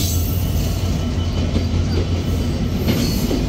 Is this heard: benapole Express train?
yes